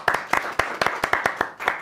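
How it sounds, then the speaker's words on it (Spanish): Audience at a live Spanish-language comedy show clapping in a steady, rhythmic beat: sharp, close hand claps about four per second, with no talking over them. "¿Podemos aplaudir?"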